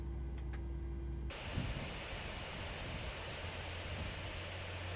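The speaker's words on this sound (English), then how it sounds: "Okay, good engine start on number 2, starting engine 1." Boeing 737-800 engine in a flight simulator spooling up after start, a steady hum that abruptly gives way to a broad rushing roar, sustained and even, with no talk.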